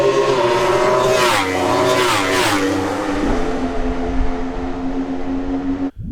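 A Yamaha R1 GYTR race-spec motorcycle on a race track, its engine loud and close as it rises and falls through gear changes, then the roar cuts off abruptly.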